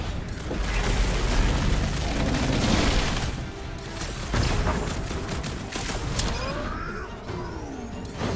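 Fireworks go off in Marvel's Guardians of the Galaxy video game, a dense, loud crackling barrage of bursts and booms with a sharp blast partway through and whistling streaks toward the end.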